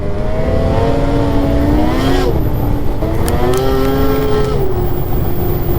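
A Ski-Doo Titan S4 snowmobile engine drones loudly and steadily on a groomed trail, its pitch rising and falling as the rider holds and pushes the revs, heard close with no talking.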